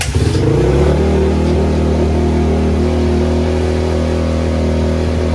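Cold motorcycle engine started with the choke on, firing up after a brief crank and settling into a loud, steady, even idle close by, with no talk.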